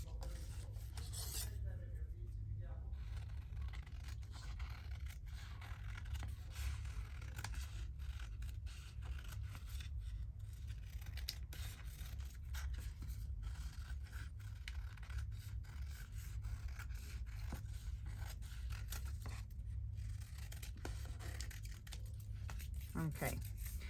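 Scissors snipping through paper for a tall document journal, a soft rasping cut that runs off and on beneath steady low background hum, close and quiet, with a few sharper crinkles and paper rubs scattered throughout.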